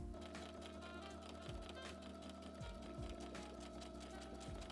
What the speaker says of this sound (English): bring our work back to our sewing machine to sew the buttonhole in place.